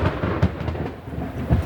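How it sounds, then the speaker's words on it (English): A low rumble of thunder rolls through a rainstorm with the hiss of rain behind it, swelling in a couple of heavy pulses over a short span. "Ooh, that was lightning."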